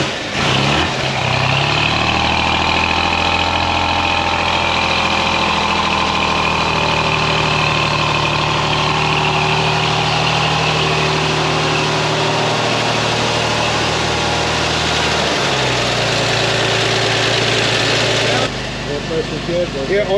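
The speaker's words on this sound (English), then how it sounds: "Nice quiet idle." The original engine of the 1954 Harley Earl Corvette prototype S.O. 2151 idles steadily and loud up close, a smooth continuous hum that briefly dips partway through, with a voice faintly underneath.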